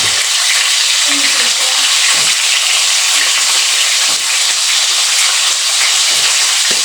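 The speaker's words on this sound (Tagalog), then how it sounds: "Prito tayo ng dalagang bukid" Loud, continuous sizzling and crackling of dalagang bukid (redbelly yellowtail fusilier) fish frying in hot oil, close up, a steady hiss with small pops scattered through it.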